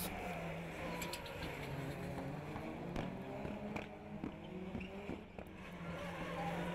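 Rallycross Supercars, including a Citroën DS3, racing on a circuit, a dense roar of engines at mid distance with revving and gear changes and occasional tyre noise, continuous throughout.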